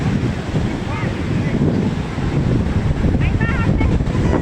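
Sea waves washing onto the shore with strong wind buffeting the microphone, a constant loud roar with brief voices faintly audible over it.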